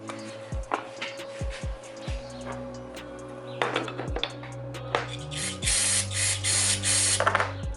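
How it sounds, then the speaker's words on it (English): Short hisses of carb cleaner sprayed onto a pit bike wrist pin, growing into a longer steady spray near the end, with faint workshop sounds and a few chirps behind it. "we're gonna use some carb cleaner just to get that off real quick"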